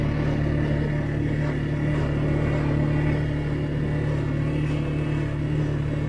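A CFMOTO vehicle rolls along an ice-covered road in four-wheel drive, its engine giving a steady, close, continuous low hum and rumble throughout, with no voices.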